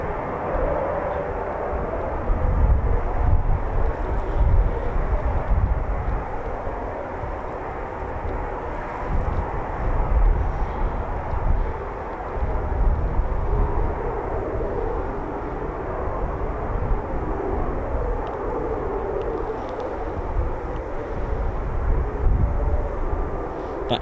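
A Eurofighter Typhoon FGR4 fighter jet takes off at RAF Coningsby, its engine noise a steady, fairly distant low rumble with gentle swells, heard alone.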